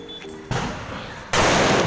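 Diwali firecrackers going off on the road, two sharp loud bangs about a second apart, each followed by a short ringing decay, with a faint voice in between.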